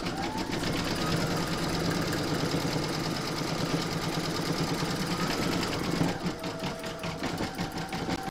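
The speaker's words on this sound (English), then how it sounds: "pop that into your machine and stitch round number 8, and that's going to zigzag all around the edge" Embroidery machine stitching a zigzag border around the edge of an in-the-hoop vintage witch's boot, a steady rapid mechanical whirr and needle chatter running continuously and close, with a slight change in rhythm near the end.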